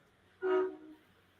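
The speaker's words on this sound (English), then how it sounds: "Train." A train horn sounds once in the distance, a short mid-pitched blast that swells and fades over about half a second, heard alone against quiet background.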